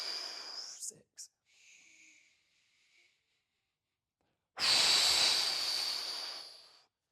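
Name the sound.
deep breathing during box breathing exercise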